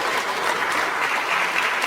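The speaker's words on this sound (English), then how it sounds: "Please, with the standing applause." Audience at a university lecture giving a standing ovation, steady dense clapping from a large crowd throughout, loud and continuous with no voices on top.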